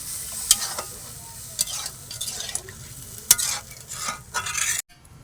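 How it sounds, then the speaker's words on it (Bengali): Mustard spice paste for a rohu fish curry fries in a pan while being stirred, producing a hissing sizzle with repeated scraping strokes, close and fairly loud, cutting off abruptly near the end; nobody speaks. "মশলাটা হালকা ভেজে নিয়েছে"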